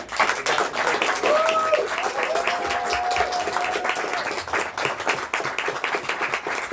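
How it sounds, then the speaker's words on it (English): Audience applause at a book event, steady dense clapping throughout with faint whistling tones over it, moderately loud and fairly close. "join me in giving a huge round of applause"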